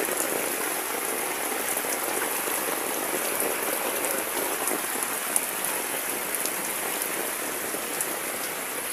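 Heavy rain pours down steadily outdoors during flooding, a dense, continuous hiss of drops drumming on surfaces with no pauses and no voices.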